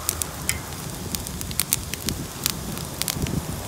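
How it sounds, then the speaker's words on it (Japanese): Campfire of mixed easy-burning kindling and firewood logs, crackling steadily outdoors in the mountains, with frequent sharp pops and snaps over a soft rushing burn, close and fairly quiet with no talking. "その燃えやすいもの半分と燃えにくいもの半分を交互に足していけば全部きれいに燃えてくれます"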